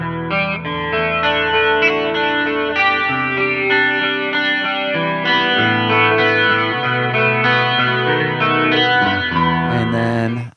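An electric guitar plays through a Helix preset chain with compressor, distortion, cab, chorus, double take, delay and reverb, giving a loud, steady run of shimmering sustained chords and notes with no voices.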